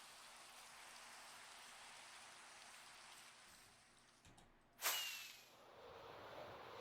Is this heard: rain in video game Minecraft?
yes